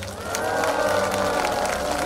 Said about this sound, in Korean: 여러분 박수를 부탁드립니다